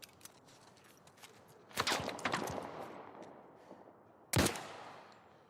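Enemies fire at the player in The Last of Us: sharp bursts of gunshots and quick cracks, one loud cluster early and another abrupt shot near the end, over a quiet rustling background.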